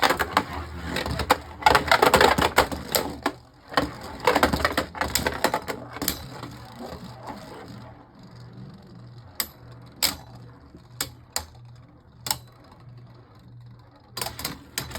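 Beyblade Burst spinning tops, Rock Dragon against Eclipse Genesis, clash in a plastic stadium: dense rapid scraping and clattering at first, then a softer whirring spin punctuated by sharp isolated clacks of impact.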